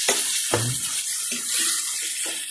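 Water poured into a cooking pot on a lit stove while pork and chayote cook for a Filipino sautéed dish, a steady wash of splashing and pouring running through the whole moment at close range, with no talk.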